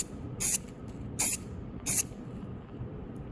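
A spray can lays clear coat over carbon fiber in three short, loud hissing bursts spaced roughly evenly, each under a quarter second, separated by quiet room tone with no talk.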